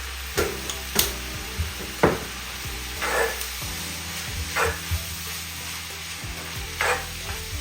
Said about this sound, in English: Now I'm just gonna add my soy sauce and then mix in everything together